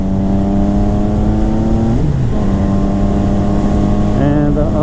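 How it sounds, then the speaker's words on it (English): A Yamaha MT-09 (FZ-09) motorcycle engine drones steadily while riding at about 100 km/h, with a strong harmonic tone that dips briefly as if shifting gears, then resumes, masked by constant close wind rush. "I will ride right now my motorcycle like 100"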